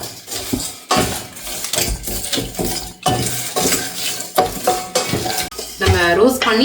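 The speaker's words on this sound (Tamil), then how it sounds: "நல்லா ஹீட் ஆகிற அளவுக்கு மட்டும் வறுத்தா போதும்." Whole spices being dry roasted in a pan for a Tamil-style country chicken curry, stirred steadily with a spoon that scrapes and clinks against the metal, loud and close with a constant busy rhythm.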